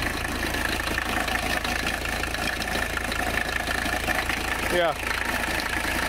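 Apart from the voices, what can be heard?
1985 Mercedes 300CD engine idling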